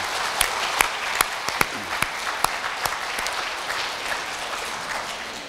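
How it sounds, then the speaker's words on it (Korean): An audience at a club's 29th anniversary event breaks into applause, a steady crowd clapping with a few sharp, louder claps standing out near the start, fairly close and continuous throughout. "본인에게 큰 박수 한번 보내주세요"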